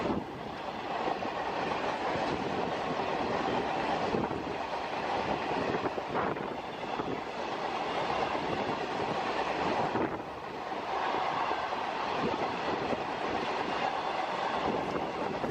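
An Indian Railways freight train hauled by an electric locomotive rolls steadily past nearby, a continuous loud rumble of wagons with rhythmic clickety-clack, faint wheel squeal and wind buffeting across the whole stretch.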